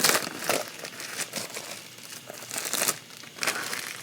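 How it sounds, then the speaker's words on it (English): Plastic packaging being peeled off an Atoto 7-inch double-DIN car head unit, close crinkling and crackling in bursts with short pauses, no talk. "Let's get this unwrapped."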